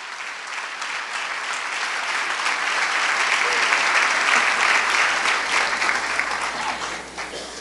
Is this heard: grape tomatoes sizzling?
no